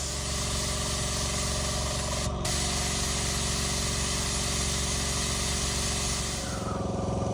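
A small hobby spray gun atomizes leather dye during detailing of a Ferrari 355, giving a steady, loud hissing rush close to the mic that runs unbroken for several seconds before tapering off near the end.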